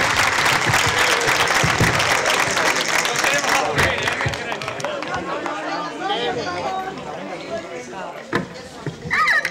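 At a tamborilero festival in Guadramiro, an audience welcomes a drummer and a pair of folk dancers with strong, full clapping that fades after a few seconds into murmuring voices and scattered claps.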